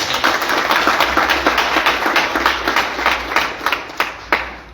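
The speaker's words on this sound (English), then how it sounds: "Give yourself a huge round of applause." A crowd claps steadily, a dense wash of hands that thins toward the end into a few louder individual claps.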